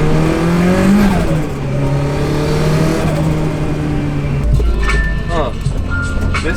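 A Nissan S13 revs hard while drifting at night, its engine whining through rising and falling pitch sweeps, loud and close, with people talking over it.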